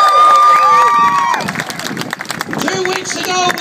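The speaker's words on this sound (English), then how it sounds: "Give them a round of applause, too." An outdoor street protest crowd on Queen Street in Auckland, with cheering, shouts and scattered clapping close by, voices rising and falling over the noisy throng.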